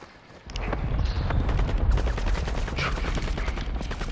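Gunfire in a Call of Duty Warzone match on Ashika Island, a dense stretch of rapid, loud shots with deep booming low end that keeps going after a brief quiet start, with no voices over it.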